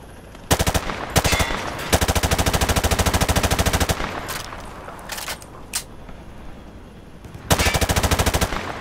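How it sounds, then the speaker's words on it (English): Automatic gunfire rattles at targets on a video game firing range in several sustained rapid bursts, loud and close, with single shots and pauses between bursts. "Grab that weapon off the table and fire at the targets behind you."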